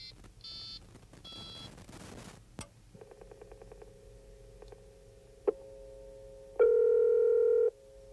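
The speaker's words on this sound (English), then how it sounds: "you need to punch the star button to get the dial tone" A few beeps and clicks give way to a steady telephone dial tone humming on the line, broken by a click and a louder burst of tone near the end.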